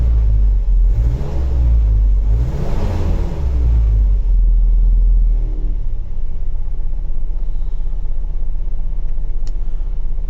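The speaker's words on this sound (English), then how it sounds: "Give it a couple revs." An old truck engine revs a couple of times with deep rumbling surges, then settles back to a lower, steady idle, loud and close.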